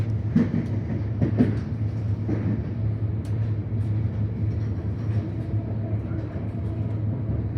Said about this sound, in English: In a big heavy rail train, just like this, on a single track through the suburb.